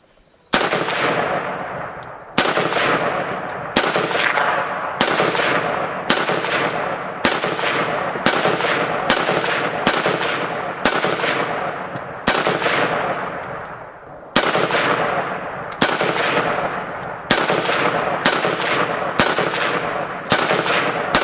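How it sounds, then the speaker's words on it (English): A Romanian WASR 10/63 AK-47 rifle fires 7.62x39 rounds at a shooting range, loud sharp single shots spaced about a second apart, each with a ringing decay, around sixteen in all. "So I got the Wasr 10. I'm going to get her warmed up, and then let's see what Jeremy thinks of it"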